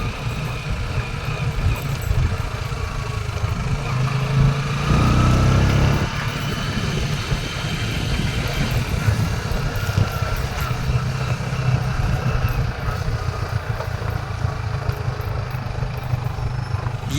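A farm tractor's engine drones steadily on a paved rural road in agricultural land in Madhya Pradesh, a continuous mid-level rumble that swells slightly as it approaches, with no talk.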